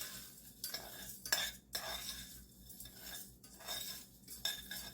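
Panko breadcrumbs stirred into burnt butter in a pan, a utensil scraping and clinking against the metal in repeated bursts over a faint sizzle, close and fairly quiet, no voices.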